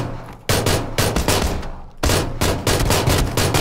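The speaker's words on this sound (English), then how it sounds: "I got a Tommy gun." Tommy gun fire in PUBG: loud, close full-auto bursts, three long rattling volleys separated by brief pauses.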